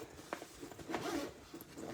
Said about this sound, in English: It's got a zipper on the top here.